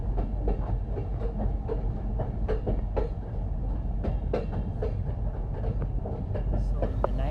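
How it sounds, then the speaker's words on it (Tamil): A train rumbles past on the Kandy to Ella line in Sri Lanka with steady clickety-clack from the wheels, continuous and fairly loud, with faint voices in the background. "ஒரு ட்ரெயின் வரும்."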